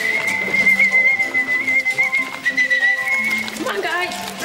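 A sustained whistle call used to summon trained penguins, held as a steady tone for about three and a half seconds before breaking off, with voices and background sound beneath it.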